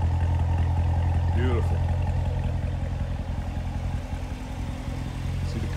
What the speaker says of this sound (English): And there you can hear that exhaust.